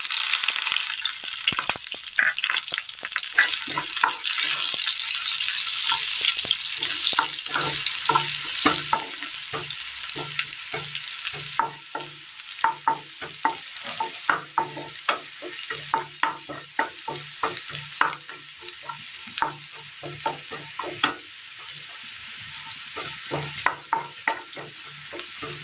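Chopped shallots sizzle and fry steadily in a pan for a Kerala curry, with frequent close scraping and stirring strokes of a spoon running through the continuous hiss, no voices present.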